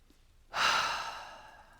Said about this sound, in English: take a breath in.